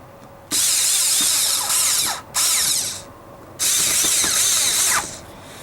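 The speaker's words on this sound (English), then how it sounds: "Get the screws started." A power drill drives screws into the plastic rear bumper cover of a 2008 Jeep Grand Cherokee, three loud bursts of whirring and ratcheting separated by short pauses.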